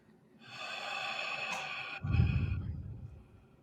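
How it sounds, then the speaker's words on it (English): A long, deep breath pushed out forcefully during a breathing exercise, close and breathy, rising over about two seconds before ending in a rougher, rushing release of air. "Begin by breathing out as much air as you can."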